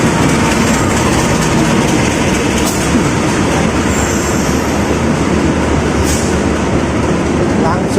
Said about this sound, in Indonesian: si legenda kereta ekonomi jalur selatan KA Pasundan,